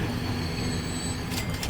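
A train pulling into a station in Transport Fever 2: a steady rumble of rolling wagons with a high, thin wheel squeal above it and a few bright metallic screeches near the end.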